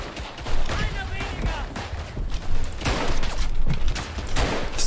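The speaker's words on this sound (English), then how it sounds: "This is a firing line right there, holy shit. The firing line of men." Gunfire from a firing line in the Verdun trench video game: repeated rifle volleys and loud cracks, some near and some far, in chaotic waves that rise and fall, with speech in the background.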